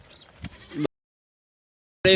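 A brief bleat sounds twice, cut by an abrupt stretch of silence, with the second cry clipped at the very end.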